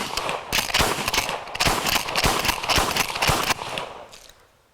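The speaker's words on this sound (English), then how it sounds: "These things are known for slam fires" Chinese reproduction Winchester 1897 pump shotgun slam firing, a rapid string of about eight loud, sharp blasts spaced roughly half a second apart, each with a short ringing tail, fading into quiet at the end.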